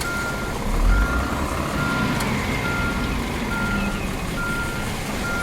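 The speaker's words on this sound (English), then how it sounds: "I need to reverse." Truck reversing alarm in the Truck Simulator video game on PS4: a steady run of evenly spaced high electronic beeps over a constant rumbling engine drone, with no talking.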